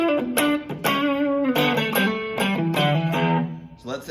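Bluesy electric guitar with slight distortion, fed through a pedal board, plays a run of sustained notes and short phrases close and clear, with brief gaps between the lines.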